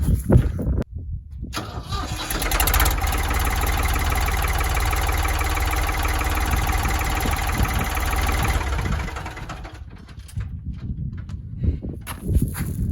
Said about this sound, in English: The old tractor starts pretty good.